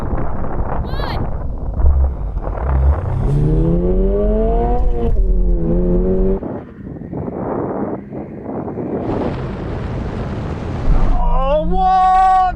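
A Toyota engine revs hard during a drag race start, rising through several gear pulls with a strong rumble and brief drops between shifts, loud and close, with bursts of wind buffeting and a voice speaking over it.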